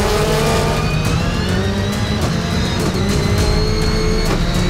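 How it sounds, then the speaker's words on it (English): Race car in an ARX rallycross event at Trois-Rivieres, accelerating hard down the front straight with a loud, steady engine roar that climbs through gear changes, close and continuous with no talk. "Down the front straight and up through the gears"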